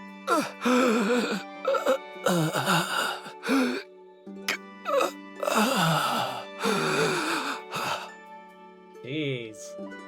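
Labored, heavy breathing and drawn-out groans from an ill character in Tower of Fantasy, repeated strained moans and sighs in separate bursts over a steady background tone, close and clear.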